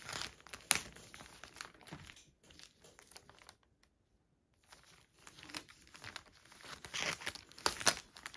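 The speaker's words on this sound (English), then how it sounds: "we're simply going to take our IKEA bag. We're going to cut the top off, and then you're going to cut down each side." An IKEA plastic bag being cut open and torn down its sides, with close crinkling and rustling in uneven bursts, a brief quiet pause in the middle, then louder crumpling near the end.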